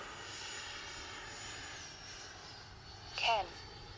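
An FMS Integral 80mm Sharky RC jet whines steadily with a high turbine tone, its pitch shifting midway, then a brief louder swell near the end; no talk is heard.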